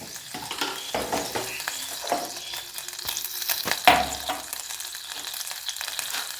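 Mustard seeds and urad dal sizzle and crackle in hot oil for a tempering, a steady close frying hiss with scattered pops and a few utensil clinks, no voices.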